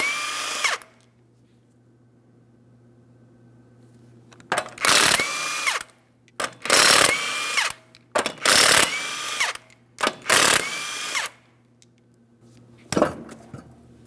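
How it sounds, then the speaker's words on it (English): An impact gun whirs in five or so loud bursts with rising and falling whine, spinning 21mm lug nuts off the front wheel of a 2003-2008 Toyota Matrix, with quiet gaps and a low hum between. "To remove the wheel, remove all 5 of your 21mm lug nuts."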